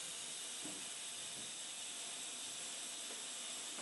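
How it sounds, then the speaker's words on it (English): A fog machine letting out a continuous, faint, steam-engine-like hiss that stays even from start to finish, with a few soft low knocks underneath. "Oh god, it's a steam engine."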